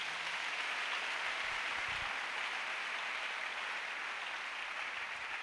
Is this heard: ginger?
no